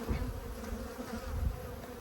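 A dense, steady hum of honeybees fills an open hive during an apiary inspection, close and continuous with no voices.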